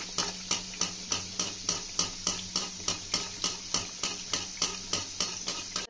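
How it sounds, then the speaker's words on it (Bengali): Radhaballavi puffing as they fry in hot oil while a utensil stirs the oil in a steady rhythm, about three strokes a second, with a bright sizzle running underneath throughout. "এরকমভাবে তেলটা নড়িয়ে দিলে ফোলে ভালো।"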